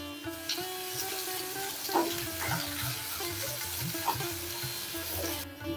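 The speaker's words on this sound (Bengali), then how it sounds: "পেঁয়াজটাকে একটু ভাজতে হবে।" Onions fry in a pan with a steady close sizzle, broken by occasional spoon stirs and clinks, with no talking.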